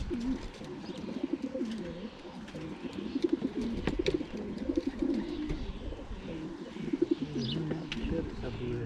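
Domestic pigeons in a loft coo repeatedly at close range, a soft rhythmic burbling that runs throughout, with people talking quietly over the birds.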